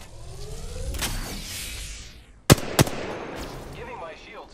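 Gunfire in the video game Halo strikes the player, heard as two sharp, loud cracks close together midway through, over a steady rumble of game noise, with no talk.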